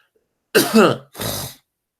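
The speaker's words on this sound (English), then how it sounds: "Pardon my coughs and sniffy nose." A single cough followed by a rough throat clearing, close and loud, then silence.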